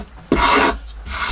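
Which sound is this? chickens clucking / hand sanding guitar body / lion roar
hand sanding guitar body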